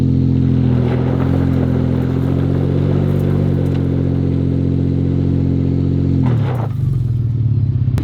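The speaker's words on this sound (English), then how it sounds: "you just saw I'm able to just kind of burn the tires." Vehicle tires spinning in place without the differential locked, a loud sustained engine drone at steady revs that drops abruptly near the end, close by.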